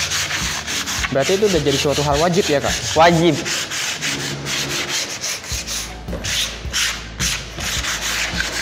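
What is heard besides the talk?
hand sanding plywood wood surface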